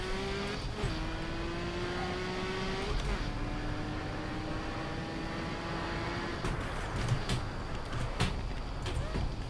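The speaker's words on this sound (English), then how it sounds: "this car is so crazy on the throttle" A DTM race car screams through the revs in Assetto Corsa, the engine climbing in long pitch sweeps with brief drops at each gear shift, loud and continuous with faint tire noise and occasional clicks.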